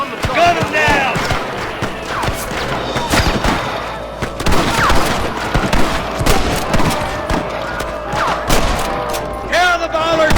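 Gunfight against rustler guards in Red Dead Redemption: dense, rapid volleys of gunshots crack close and loud through the whole stretch, mixed with shouted voices and game noise.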